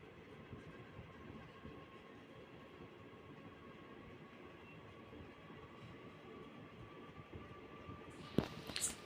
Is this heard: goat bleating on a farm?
no